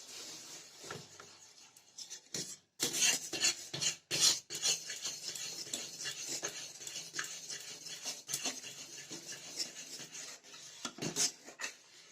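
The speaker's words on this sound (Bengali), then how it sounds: "গুঁড়ো দুধ দেওয়ার সময় অনবরত নাড়তে হবে যাতে দলা না পাকিয়ে যায়।" Milk and powdered milk stirred without pause in a pan for barfi pitha, a continuous close rasping scrape of spoon against the pan bottom with a few sharper knocks, steady throughout and with no voices.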